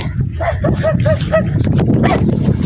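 Several short dog barks in quick succession over a noisy outdoor background on a forest hiking trail in Surigao City, Philippines, fairly close, with a pause before a final bark.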